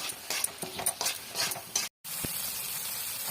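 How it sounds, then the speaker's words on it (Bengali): Turmeric, chilli, cumin powder, salt and a splash of water being sautéed into a fish masala in a pan: a steady close sizzle with scattered stirring scrapes, a brief dropout midway, no talk. "হলুদ গুঁড়ো, লঙ্কার গুঁড়ো, জিরের গুঁড়ো, লবণ, একটু হালকা জল, ভালো করে এটা কষাবো।"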